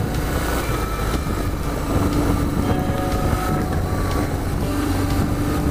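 Off-road motorcycle engine running steadily while riding through an old mining area, a continuous near drone with wind and rumble and no talking.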